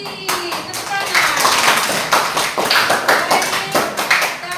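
Students in a classroom clap together in uneven bursts. The claps are close and lively, with a voice speaking over them.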